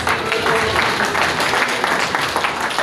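Steady applause from an audience at a Catholic diocesan gathering of intellectuals and Christian executives, a dense wash of clapping with faint voices mixed in throughout.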